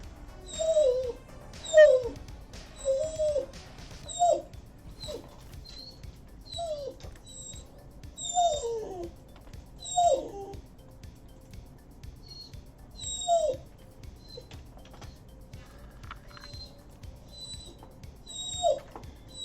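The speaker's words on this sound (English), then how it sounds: "I have an assistant puppy" A puppy whimpers and yips again and again, short high whines repeating every second or two, close and fairly quiet with nothing else going on.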